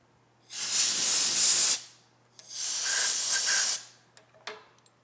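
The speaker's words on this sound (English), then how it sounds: "Put a little bit of brake cleaner. Get that Loctite off there so you don't get your bolt stuck." Brake cleaner sprays onto an engine bolt on a rusted Cummins 12-valve engine to strip off Loctite, in two long loud hissing bursts followed by a few short puffs and clicks.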